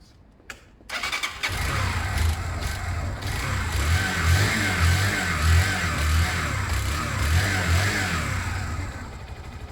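A Zontes Mantis 125cc motorcycle engine on choke catches after a brief start, then runs loud and close with a steady throb and a few mild revs rising and falling.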